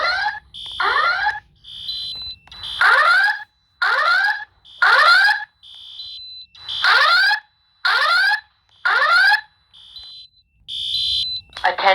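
A school fire alarm loops loud, repeating electronic whoop tones and sharp beeps in a steady rhythm, with a recorded voice evacuation announcement in the gaps between bursts.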